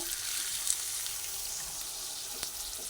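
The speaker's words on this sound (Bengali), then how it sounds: "এবার ভালোভাবে আবার নাড়াচাড়া করে সবার সঙ্গে ভেজে নিচ্ছি ভালোভাবে নাড়াচাড়া করতে করতে" Besan fritter curry with potatoes sizzles steadily in a hot pan as it is stirred, a dense, constant hiss with faint scraping, close by and without talk.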